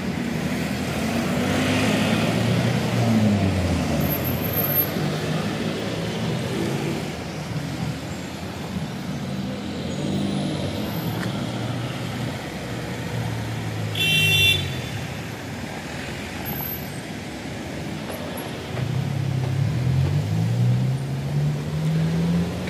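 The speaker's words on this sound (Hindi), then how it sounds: "ट्रैफिक का प्रॉब्लम है यहाँ पर," Steady road traffic streams past at the Malta city marina in Msida, a constant engine rumble with occasional car horn toots rising above it.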